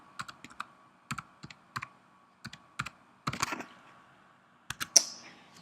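Keys clatter on a computer keyboard, tab key included, while entries are typed into accounting software: short bursts of close, crisp clicks separated by pauses, with a busier run near the middle and a sharper final stroke.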